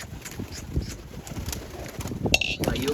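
Soft pigeon coos and rustling close by, quiet with scattered small bird noises and faint background sounds.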